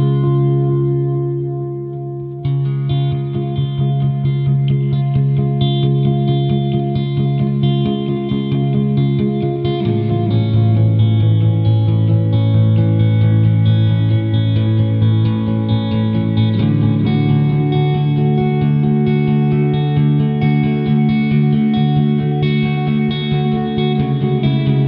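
An electric guitar played through a Horizon Devices Flux Echo pedal, sustained chords ringing out with repeating echoes and a reverb wash, loud and steady for the whole stretch with no talking.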